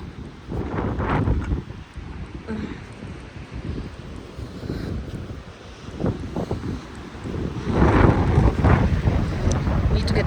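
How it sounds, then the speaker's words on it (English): Strong wind blows at an outdoor birthday party, buffeting the microphone with a continuous low roar that swells in gusts and grows loudest near the end. "it's very windy right now."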